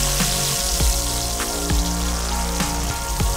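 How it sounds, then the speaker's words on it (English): Striped bass pan roasting in a cast iron pan with fresh garlic, thyme and a little butter, giving a steady broadband sizzle with scattered spitting pops throughout. "It's pan roasted in the cast iron with fresh garlic, fresh thyme"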